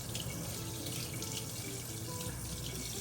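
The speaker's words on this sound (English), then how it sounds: "I'm going to grab my sprayer over here and I'm going to rinse it really good with cold water" Cold water from a kitchen sink sprayer rinses raw beef, a steady, close, full-bodied hiss of running water that holds without pause throughout.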